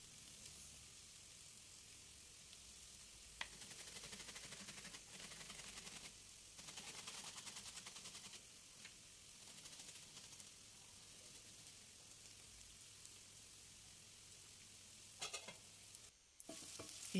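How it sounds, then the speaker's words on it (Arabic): Small peppers frying in a pan with onion and garlic, a quiet, continuous sizzle with occasional light clicks and stirring scrapes throughout. "ربيتهم في الرقيق وراح نضيفهم يتقلاو مع البصل والثوم"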